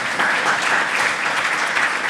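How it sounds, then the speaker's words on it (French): A studio audience on a French talk show breaks into dense, even applause, loud and sustained throughout with no voices over it. "Ça s'applaudit, ça, quand même."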